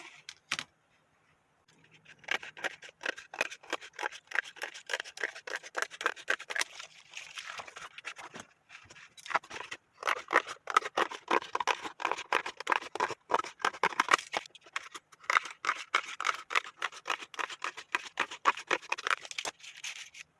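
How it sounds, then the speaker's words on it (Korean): Scissors cutting corrugated cardboard along drawn lines for a spinning top, close crisp snipping and crunching in dense, irregular bursts with brief pauses, running for about twenty seconds without talk. "이 재단은 선을 그어준 데 맞춰서 이제 오려줘야 되겠죠. 가위로 딱."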